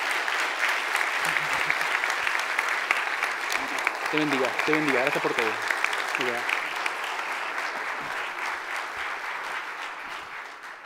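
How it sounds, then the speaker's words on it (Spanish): A church congregation gives its pastor loud, sustained applause, a steady dense clapping that runs throughout, while someone speaks briefly over it in the middle. "Por eso quiero que le demos un aplauso fuerte a mi pastor"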